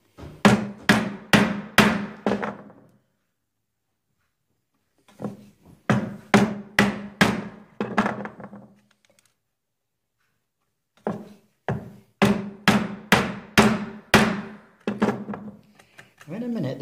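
A chisel struck with a mallet to chop a mortise into wood during mortise-and-tenon joinery, heard as three bursts of sharp, evenly paced knocks, close and loud, with silent pauses between bursts.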